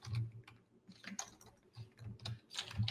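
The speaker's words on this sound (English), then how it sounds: "Okay, I'm still typing." Typing on a computer keyboard: irregular bursts of close, crisp key clicks with soft low thumps, running in uneven clusters with short pauses.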